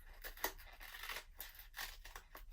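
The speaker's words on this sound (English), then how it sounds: "Let's go ahead and trim this little part off." Scissors snip through a paper planner sticker in several quick, faint cuts at close range, with light crisp paper rustles between them.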